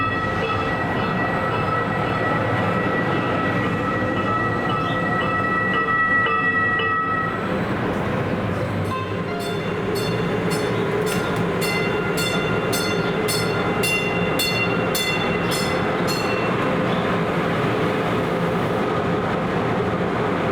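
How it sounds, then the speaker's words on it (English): A coal train rumbles past Union Station in a steady, loud, continuous roll, with a bright rhythmic clatter of wheels on rail joints rising partway through and no talking over it. "this coal train was already hauling"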